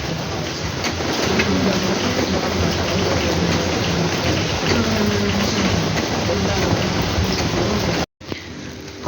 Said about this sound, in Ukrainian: Ходимо по дощу в центрі берегу.